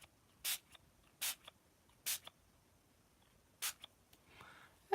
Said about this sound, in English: I'm going to spray just a little bit